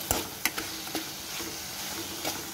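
Chopped tomatoes stirred into a ridge gourd curry in a hot pan: soft continuous frying sizzle with several sharp spoon-on-pan clacks at irregular intervals, close by and with no speech.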